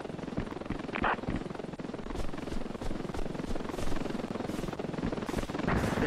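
Helicopter in the tactical video game Intruder: a continuous rhythmic rotor thump and engine drone, steady and fairly loud throughout with no speech over it.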